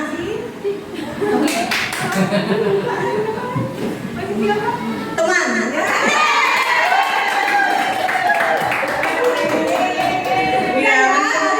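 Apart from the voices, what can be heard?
audience clapping and cheering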